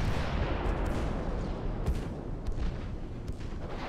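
The battleship Thunderer fires its guns in the naval game Ultimate Admiral Dreadnoughts, with a 1910 British campaign setting: a continuous deep rumble of cannon fire with a few sharper booms breaking through.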